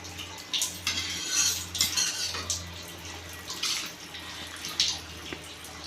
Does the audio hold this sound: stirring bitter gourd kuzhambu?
yes